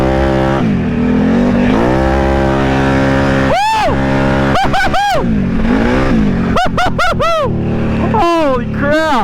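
An Outlander four-wheeler runs hard through a swamp during extreme mud riding, its engine droning loud and steady, then climbing and falling in sharp repeated revs near the end. Excited voices talk over it.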